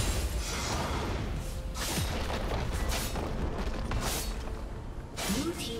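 Inhibitor and turret structures blowing up during a League of Legends mid-lane Zed versus Yone match on a Korean Challenger server: repeated broadband booming crashes over a dense, continuous bed of game noise, with a faint voice underneath.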